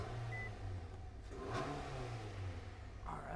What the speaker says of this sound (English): All right, make sure the engine starts.